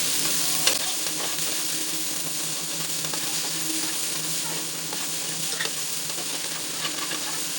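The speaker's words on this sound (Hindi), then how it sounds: "अब हम प्याज को भी आलू के साथ फ्राई करेंगे" Sliced onions and potatoes frying in a pan, a close, constant sizzle with scraping and clattering of a spatula stirring throughout, one sharper knock near the start.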